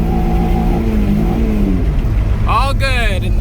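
A car engine runs again after refuelling, a steady loud drone with a rising rev tone toward the end, while a person talks over it.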